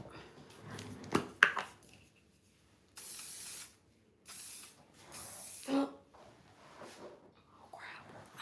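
Aerosol can sprayed indoors in a bathroom: three loud bursts of hiss, the first about a second long and two shorter ones, close and clear, with soft handling noises and a brief spoken exclamation in between.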